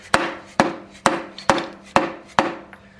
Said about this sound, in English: Give it a couple good more whacks for a measure.